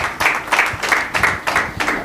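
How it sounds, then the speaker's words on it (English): An audience at the launch of an Industry-Academia Connect event applauds the panel, clapping together in a fairly even, rhythmic beat that carries close and clear throughout. "A round of applause, guys."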